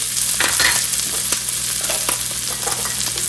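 Three cloves of chopped garlic and a green chili fry in hot oil in a pan for chicken egg fried rice, giving a continuous close sizzle with occasional stirring scrapes and no talking.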